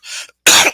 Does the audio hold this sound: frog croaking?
no